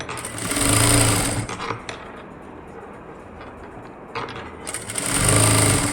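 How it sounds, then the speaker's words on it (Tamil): Sewing machine stitching the neck hem of a plain blouse, running in two loud bursts at the start and end with a quieter pause between, no voices. "மறுபடியும் அந்த ஓரத்துலேயே படிமான தையல் போட்டுக்கலாம்."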